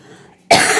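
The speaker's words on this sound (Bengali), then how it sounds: "কাশি দেখেছো?" A single sharp, loud cough bursts out suddenly after a brief quiet moment, close to the microphone, from someone with a cold.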